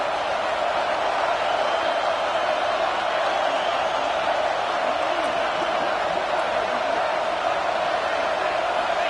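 Steady roar of a football stadium crowd at an FSU versus LSU game, a dense continuous wash of many voices holding at constant loudness throughout with no single standout cheer.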